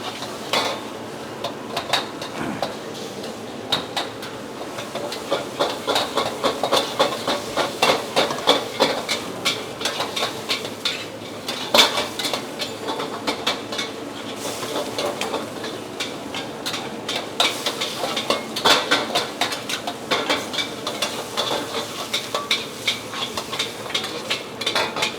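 Nasi goreng being stir-fried in a busy restaurant kitchen: rapid metallic clanking of a spatula against a wok goes on almost without a break over a constant sizzle and kitchen noise.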